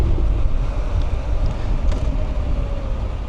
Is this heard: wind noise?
yes